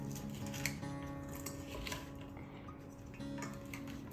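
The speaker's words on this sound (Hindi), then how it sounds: "अब इसको अच्छे से मिक्स करेंगे।" A spoon clinking and scraping in a bowl while coconut salad is mixed, light irregular ticks and taps close by, fairly quiet over a soft background hum.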